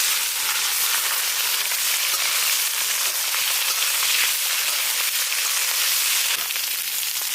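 Bitter gourd frying in hot oil in a home kitchen pan, a steady, dense sizzle that stays loud and even throughout with no talking.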